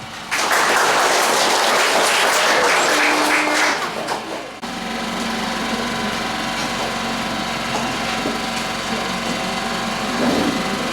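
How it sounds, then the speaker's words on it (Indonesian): Church congregation of Gereja Kristen Sumba at GKS Rakawatu applauding at an anniversary service, a dense loud wash of clapping for about four seconds that cuts off, followed by a steady mechanical hum and murmuring room noise. "Kita tepuk tangan."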